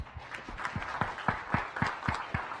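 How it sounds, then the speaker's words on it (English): Sparse applause from a small audience at an evening science cafe talk on the Internet of Things, a scattering of distinct hand claps fairly close and moderately loud, no voices over it. "Let's give him a round of applause"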